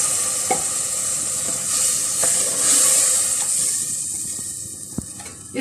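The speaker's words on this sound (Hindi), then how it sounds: "और 1 कप इसमें पानी डालूंगी ताकि मसाला अच्छी तरह से भून जाए।" Masala of onion, garlic ginger paste, tomato, salt, chilli and turmeric frying in oil with a cup of water in a pan, a loud close sizzle and hiss with occasional stirring clinks and scrapes.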